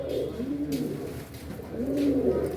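Owl satin pigeons, among them a black owl satin hen, coo in two low, rolling bursts, the first near the start and the second near the end, close by against a steady background hum.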